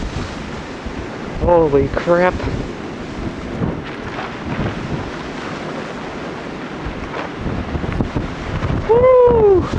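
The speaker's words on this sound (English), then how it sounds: "here comes a wind gust" A strong blizzard wind gust roars in Derry, New Hampshire, buffeting the microphone with a broad rushing noise that swells and fades, while a man exclaims loudly over it.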